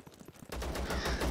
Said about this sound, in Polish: Słyszę te strzały.